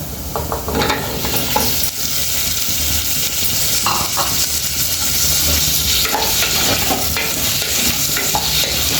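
Cucumber pieces fry with toor dal in a pan for dosakaya pappu, a loud, close, steady sizzle broken by scraping stirs, with no one speaking.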